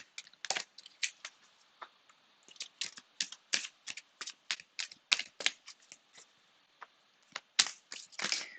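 Tarot cards handled and shuffled, a steady run of crisp riffling and snapping flicks that repeat in quick bursts, close and fairly quiet, with no talking.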